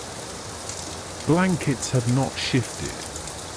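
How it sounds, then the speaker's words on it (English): Steady rain falls in a continuous soft hiss, with a person speaking calmly over it partway through. "the sound of the rain has continued unchanged"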